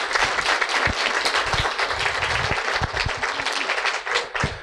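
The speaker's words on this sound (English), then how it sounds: "give them a nice round of applause" An audience applauds at an awards ceremony, a dense, continuous round of clapping with scattered louder claps, steady throughout and close.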